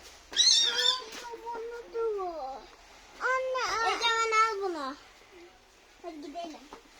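A cat meows repeatedly up close in drawn-out cries, while someone talks in between.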